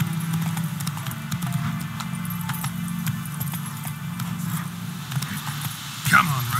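Hooves of Geralt's horse Roach in The Witcher 3 beat in a quick repeating clip-clop over a low humming drone, with a brief louder clatter near the end and no voices over them.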